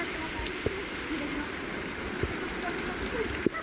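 Light rain falling outdoors during a downpour, a steady close hiss of drops on surfaces with a few sharper, louder splashes standing out.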